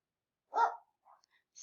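A single pet dog gives one short bark indoors, fairly close and moderately loud, followed by a couple of faint soft sounds in an otherwise quiet room; no one speaks over it.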